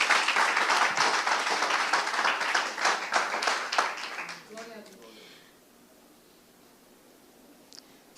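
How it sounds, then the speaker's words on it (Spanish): Loud applause from a church congregation, dense and sustained clapping for about four and a half seconds before it thins out and gives way to quiet. "¿Cuánto le dan un aplauso fuerte al Rey?"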